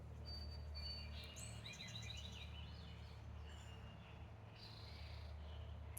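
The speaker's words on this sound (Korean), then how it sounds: "새소리 들리세요?" Faint birds chirp and sing in short bursts over a low steady background hum, distant and quiet.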